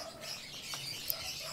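Faint bird chirps over a steady outdoor hiss, with one brief, sharper tweet near the end.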